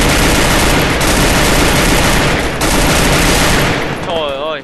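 Rapid gunfire in the mobile battle-royale game Garena Free Fire: dense, loud overlapping bursts of shots that run almost without pause for several seconds, then thin out near the end, with speech faintly mixed in.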